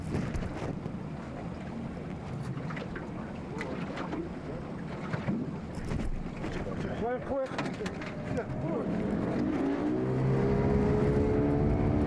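A boat motor running on the Bering Sea, a steady droning engine mixed with wind buffeting the microphone, growing louder and more tonal toward the end.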